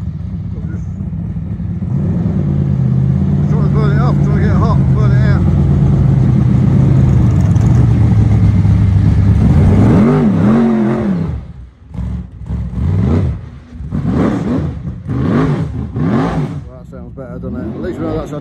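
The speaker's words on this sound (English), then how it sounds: "Our Tarmac engine, that's a good engine" An F1 stock car's Tarmac engine idles with a steady low rumble, then revs in several sharp, rising bursts that cut in and out, loud and close, with talk over the running engine.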